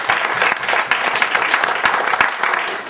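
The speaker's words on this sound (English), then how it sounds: "I'd like a brief round of applause for everybody's efforts," An audience at a live radio event gives a brief round of applause for everyone's efforts, dense steady clapping from many hands, loud and close throughout.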